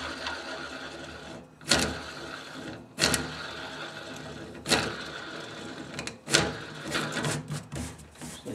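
A Kindred steel sink strainer is spun by hand to tighten it, giving a soft continuous whirring rattle broken by several sharp metallic clacks, close and fairly quiet.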